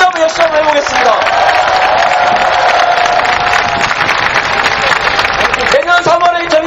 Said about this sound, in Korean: 좀 박수를 한 번만 더 세게 해주시면